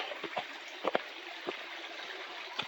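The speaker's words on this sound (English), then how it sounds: "the water goes in right here and falls down under" Indian Creek flows beside a trail in Hanging Rock State Park, pouring in and dropping under a bank in a steady close rush, with a few soft splashes and gurgles rising over the continuous flow.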